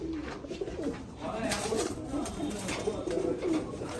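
Pigeons, including a golden pigeon, cooing in a loft, with repeated soft throaty coos close by under a man's speech.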